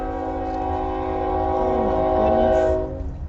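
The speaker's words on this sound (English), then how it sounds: "That is like the second train in 20 minutes." A train passing with its horn blaring, a loud sustained chord over a rumbling rail noise, close and steady, then the horn cuts off near the end.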